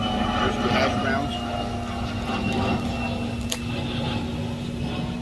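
Airplane flying overhead near an airport, a steady low roar that fills the whole stretch at a fairly even level without clear peaks.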